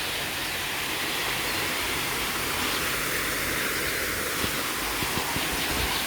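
A waterfall pours inside a temple cave at Wat Lue Amnat, a dense, continuous hissing rush that fills the space evenly and stays loud throughout.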